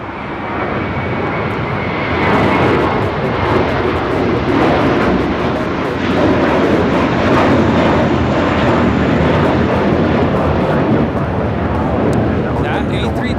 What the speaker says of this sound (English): Go to the JetBlue flight heading to Florida.